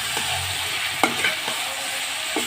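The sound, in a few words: sautéing chopped ridge gourd in a pan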